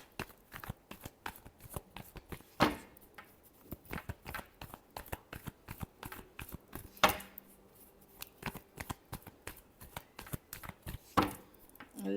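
Tarot cards being shuffled by hand, a rapid series of soft crisp riffles and taps with a few louder snaps, close and fairly quiet, with no talking.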